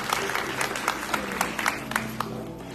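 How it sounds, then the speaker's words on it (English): An audience at a community college summit gives a round of applause, a moderate spatter of scattered individual claps from a medium-sized crowd that fades toward the end, heard from within the room. "Yeah, give them a round of applause."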